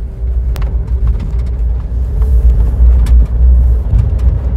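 A five-door Suzuki Jimny with a 1.5-liter K15B engine and automatic gearbox rolls over cobblestones, giving a steady, heavy low rumble with scattered small knocks from inside the cabin.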